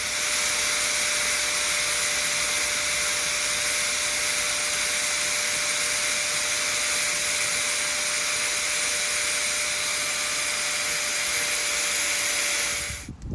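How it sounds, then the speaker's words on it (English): A grinder runs continuously and loudly with a steady whining drone, cutting into a valve on a Ford 8N tractor engine, before cutting off abruptly at the end. "So let's try to use a grinder and just try to nick out a piece."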